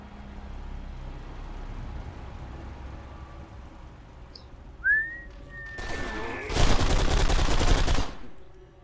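Sustained burst of rapid automatic gunfire in the BlackSite video game, loud and dense for about a second and a half, preceded by a thin rising whistle-like tone over low ambient rumble.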